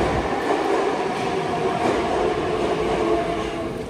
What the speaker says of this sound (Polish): tu jest najgłębsza stacja metra na ziemi, 86 metrów pod ziemią